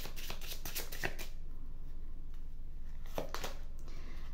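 A deck of forest oracle cards is shuffled nearby, with quiet riffling bursts at the start and again near the end against a soft background.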